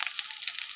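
Beans and capsicum frying in a pan, a brief bright crackling sizzle, close and steady with no voices.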